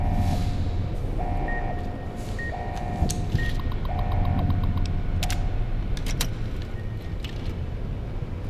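Repeating electronic alarm beeps sound inside a vault in Fallout New Vegas, a steady pattern of short tones pulsing every second or so over continuous mechanical background hum, with a few sharper clicks mixed in.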